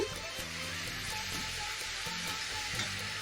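Boondi batter dropping into hot oil for laddu, a steady crackling sizzle of frying that runs throughout, close and even, with faint background hum and no talking.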